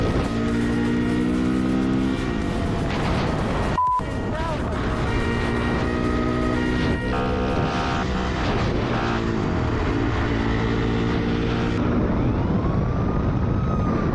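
BMW 520 F10 police car in a motorcycle-versus-police chase, its engine roaring loudly with shifting revs and gear changes, mixed with wind rush and voices at times.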